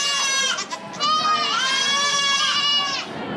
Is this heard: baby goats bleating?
yes